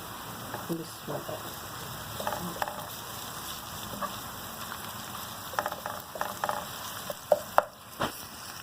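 Fresh garlic-ginger paste frying in a pan for mutton liver masala, with a steady low sizzle and scattered crackles and stirring scrapes throughout.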